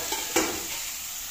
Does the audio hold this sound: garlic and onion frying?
yes